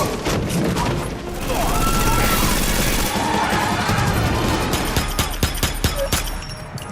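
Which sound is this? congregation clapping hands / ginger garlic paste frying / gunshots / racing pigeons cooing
gunshots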